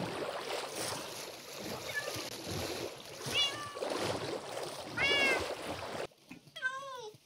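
Minecraft cats meow several times in a game world with a boat nearby, the cries rising and falling over a busy background of water and game noise, the final meow clearer and louder after the clutter drops away.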